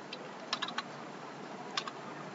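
Light typing on a computer keyboard gives a few soft, scattered key clicks over a steady background hiss, faint and close, with no speech.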